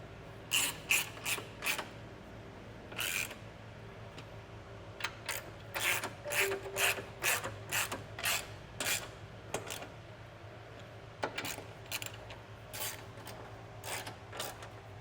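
A ratchet wrench tightens hitch hardware while a Curt trailer hitch receiver is installed on a 2022 Infiniti QX60, in quick bursts of sharp metallic clicks with short pauses between them, close and alone.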